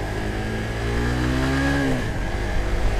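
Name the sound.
Suzuki GSX-R150 motorcycle engine revving at high RPM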